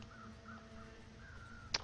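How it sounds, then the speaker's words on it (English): Crows caw in a video game, a string of harsh, faint calls from some distance over a low ambient hum, ending in a brief sharp click. "But I hear crows nearby,"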